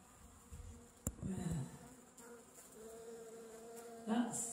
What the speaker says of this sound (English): There's the bee nest.